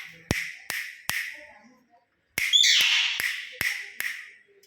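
A pet myna bird in a family home gives a run of sharp, clicking calls at a steady rhythm, followed by a louder squawking burst. The calls are close and clear, with no talking over them.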